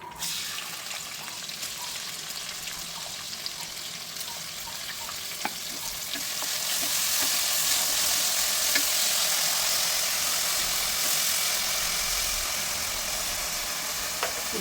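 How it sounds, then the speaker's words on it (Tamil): Steady sizzling and crackling of chopped onion frying in hot oil with bay leaf, cinnamon and whole spices in a pan, growing louder and denser partway through as the onion goes in, with a few faint clinks. "நம்ம கட் பண்ணி வச்சுருக்க ஆனியன் எடுத்து இதில் ஆட் பண்ணிக்கலாம்."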